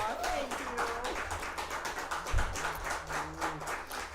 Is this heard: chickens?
no